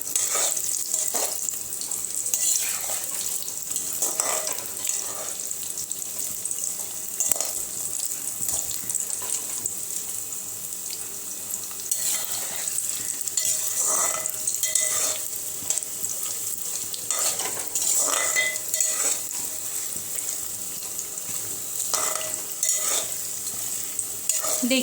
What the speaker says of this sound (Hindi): तो आलू को हम गोल्डन फ्राई कर लेंगे